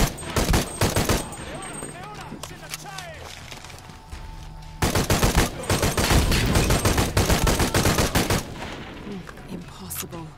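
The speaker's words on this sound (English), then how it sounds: "Oh, this is called a gun." Rapid bursts of gunfire in the Shadow of the Tomb Raider video game, loud and dense, with sustained automatic fire and repeated volleys across the clip, and some footsteps and other game sounds mixed in.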